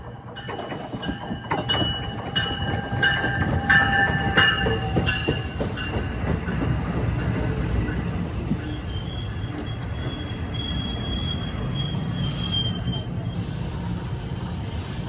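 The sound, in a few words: NJ Transit express train 3937 from New York to Trenton arriving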